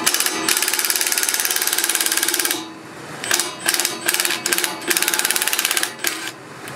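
Power tool whirring in bursts while loosening the front fork clamps on a Mega Moto 212 mini bike: a long buzzing run, then several short, clustered pulses, close and loud.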